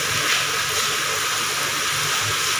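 Onions frying in hot ghee in a pan for chicken curry, a steady broad sizzle and hiss that runs unbroken and fairly loud throughout, with no talk.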